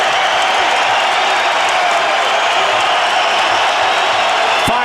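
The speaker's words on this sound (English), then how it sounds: "And the crowd reacts." A large UFC arena crowd cheers and roars loudly and continuously at the Diaz versus GSP fight, a dense wall of voices with no pauses.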